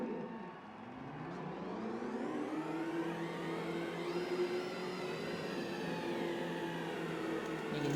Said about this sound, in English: You can hear the field rolling now.